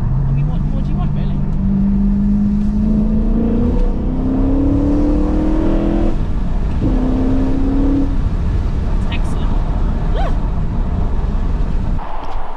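A V8-engined BMW F80 M3 driving on country roads, a loud continuous engine drone rising in pitch through gears with shifts between pulls, under road and wind rumble.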